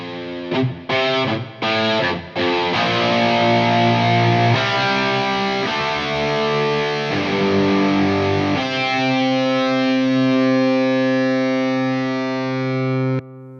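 Several distorted electric guitars layered together, starting with choppy muted chugs and then sustaining thick, ringing chords with a long held note.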